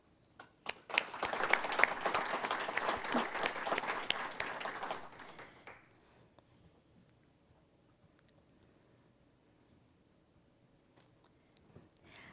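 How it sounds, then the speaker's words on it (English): A hall audience at an apprenticeship signing ceremony for a spring 2020 cohort gives a big round of applause that swells, holds for several seconds, then dies away to near silence with a few scattered sounds. "let's give one more big round of applause for the Spring 2020 cohort of LEAP Apprentices"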